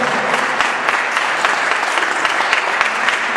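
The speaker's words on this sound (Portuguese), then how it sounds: "Uma salva de palmas ao Senhor" Church congregation giving a round of applause to the Lord after a worship song, loud near clapping from many people with crisp individual claps, sustained and even throughout.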